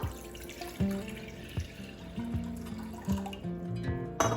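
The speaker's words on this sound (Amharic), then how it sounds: "ውሃ በጉድጓዳ ሳህን እንደዚህ እናደርግና" Water is poured into a deep bowl as the first step in making Ethiopian shiro, giving close, uneven splashing and trickling with a few hard knocks and clinks of the bowl.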